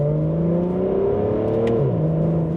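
A big V12 car engine revs up toward about 7,000 rpm, a loud, smooth, rising tone with strong steady harmonics close by, then the pitch briefly dips and settles.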